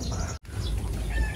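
Breeder racing pigeons flying inside a loft, with fluttering wing flaps and soft bird calls, close and continuous with a brief gap partway through.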